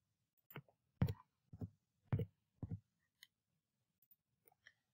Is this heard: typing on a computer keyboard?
yes